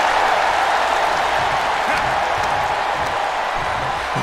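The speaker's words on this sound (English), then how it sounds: "Adam Young trying to celebrate with this crowd here" A wrestling event crowd cheers and applauds in a steady, dense roar that fills the whole stretch, with a commentator talking over it.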